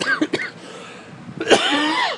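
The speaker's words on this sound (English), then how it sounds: "God, this fucking cough" A few harsh, raspy coughs near the start, then a longer rough coughing fit with a strained, wheezy tail, loud and close.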